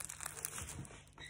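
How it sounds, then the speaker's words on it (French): A thin protective cover film tearing and crinkling as it is peeled, a short, quiet, close-up crackle lasting about a second. "Ça se déchire."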